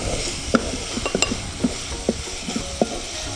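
A spoon stirring Kashmiri chili powder into a parrot fish curry in a pan, a series of close, sharp clinks and scrapes against the metal at an uneven rhythm over a soft sizzle.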